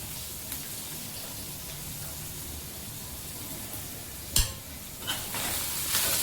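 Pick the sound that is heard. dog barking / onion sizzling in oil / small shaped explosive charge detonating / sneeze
onion sizzling in oil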